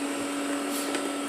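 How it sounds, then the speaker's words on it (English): A Roomba robot vacuum whirs steadily in the background, a constant motorized hum with a faint high whine, unchanging throughout. "I've got my Roomba thing going"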